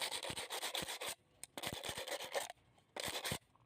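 A freshly cut piece for a betta fish bottling setup is rubbed smooth in three bursts of dry, rasping strokes separated by brief pauses, close and fairly loud with no talking.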